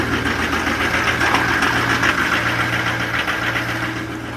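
Duramax diesel truck engine idling just after a cold start at -23 degrees, a rough knocking diesel clatter with steady rhythmic low throb, close and loud with no talk.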